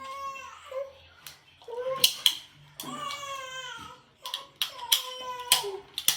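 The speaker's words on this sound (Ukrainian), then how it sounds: "Чого ти нявкаєш?" A house cat meows repeatedly at close range, a series of drawn-out, wavering cries with soft clicks and handling noises between them.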